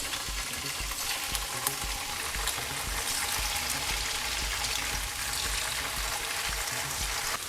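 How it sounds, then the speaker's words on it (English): Fried tofu sizzles steadily in a hot pan as it cooks for Vietnamese-style meatballs and fried tofu in tomato sauce, a continuous bright crackle and hiss with frequent popping, close and loud, with no talk. "And we put our tofu into our pan, okay?"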